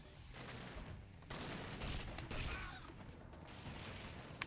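Bursts of automatic gunfire from the HS90, a self-reloading variant of the P90, in GoldenEye: Rogue Agent, rattle fairly faintly over a busy in-game background of mechanical clatter and a few sharp impacts.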